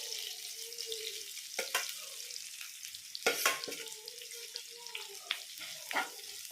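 Grated coconut roasts with onions in a pan, giving a soft crackling sizzle broken by intermittent scraping stirs and a few sharper clatters, close by and without speech.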